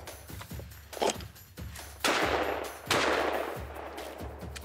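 Shotgun shots fired at hand-thrown clay targets outdoors, two loud close blasts with decaying tails over background noise.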